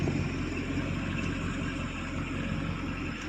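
The engine of a 1972 Chevy K10 pickup runs steadily at a low, even rumble, heard close and alone with no talk over it.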